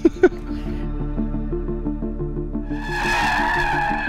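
A Mercedes C63 drifts: a steady, rising engine drone runs throughout, then a loud, sustained tire squeal takes over near the end, heard close after a couple of sharp knocks at the start.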